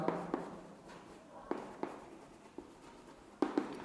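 Marker or chalk strokes scratch across a board during a probability lesson, a quiet run of short scrapes and taps with a few sharper accents.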